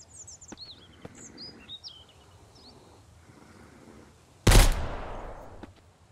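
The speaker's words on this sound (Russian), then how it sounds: "Ага, один выстрел." A single loud gunshot in the survival game Mist Survival, a sharp blast with a decaying echoing tail, preceded by forest ambience with chirping birds and no speech.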